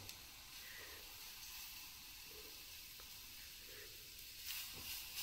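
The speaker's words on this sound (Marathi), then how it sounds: "तव्यावरचं भजे बनवितोय आम्ही." Onion fritters (bhaje) frying on a flat griddle, a steady soft hiss and sizzle throughout with a slightly louder flare of crackle near the end, no voices.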